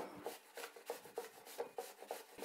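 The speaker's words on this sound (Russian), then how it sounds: "Яблоки очищаем и натираем на крупной терке." Peeled apples are rubbed against a coarse grater in a kitchen, about nine quick rasping strokes in steady rhythm, close and fairly quiet with no voices.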